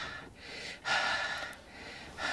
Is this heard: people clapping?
no